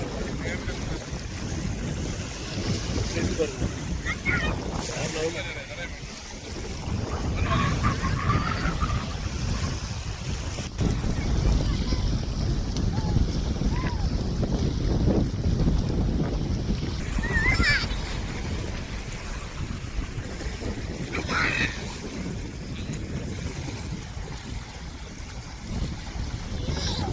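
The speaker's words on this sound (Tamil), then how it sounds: "அங்கே ஒரு போட்டு பாருங்க எப்படி போகுதுங்க." A boat moves across the sea off Hudayriyat Beach, a broad rumbling wash of engine and water mixed with wind buffeting the microphone, steady throughout while people talk nearby.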